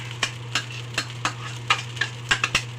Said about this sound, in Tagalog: halo natin mabuti para may mix